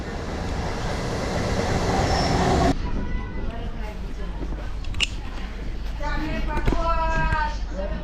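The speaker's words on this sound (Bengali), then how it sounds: "এই আমার ট্রেন আসছে" A local train pulls into a foggy, cold station on the Kolkata–Purulia line: a loud rushing rumble at first, then rolling wheels with squealing, whining brake tones as it slows nearby.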